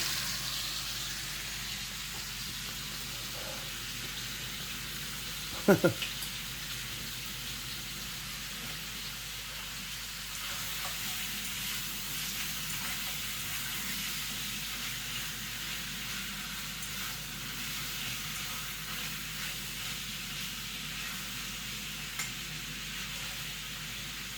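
Pork belly sizzles in a pan with a constant soft hiss, broken by one sharp utensil clatter early on; no one speaks.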